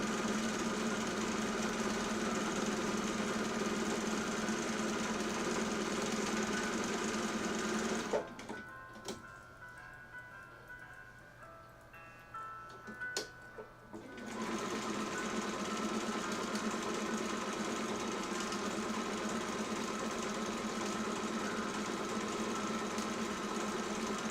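A sewing machine runs steadily while stitching craft fabric, a fast, even mechanical whir that stops for several seconds midway with small handling noises before resuming.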